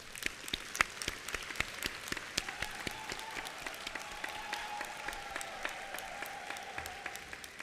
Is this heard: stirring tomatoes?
no